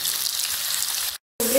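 Sliced onions sizzle and fry steadily in hot oil for fish biryani, a loud, dense crackle that cuts off briefly before resuming.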